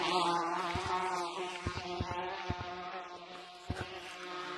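Bees in the video game Gorilla Tag drone with a steady, high buzzing that swells and wavers, broken by a few soft sharp taps.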